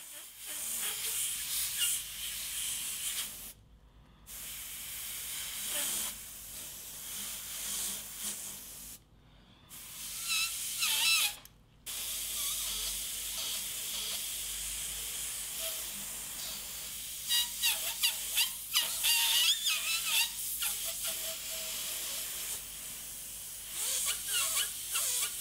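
Iwata CMC Plus Micron airbrush with a 0.23 mm needle and nozzle, spraying black paint onto a pickup truck artwork. It gives a steady, close airy hiss in long bursts, broken by brief silent gaps where the trigger is released.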